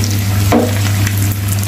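Bread pakora frying in hot oil, a steady close sizzle with soft stirring or turning noises at two moments, continuous and fairly loud throughout.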